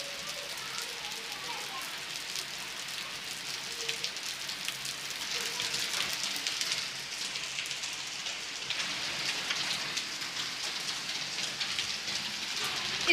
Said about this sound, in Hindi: बहुत बारिश है फ्रेंड, बहुत बारिश है।